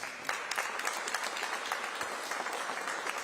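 An audience at a public announcement about a firefighters' pay contract claps steadily, a moderate, slightly distant patter of many hands with distinct claps standing out, no talk over it.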